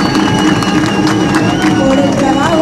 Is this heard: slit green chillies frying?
no